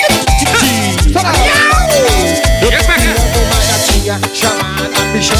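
Meowing of a young female cat woven into a busy, loud music track with heavy beat and melodic lines, the cries rising and falling amid the instruments.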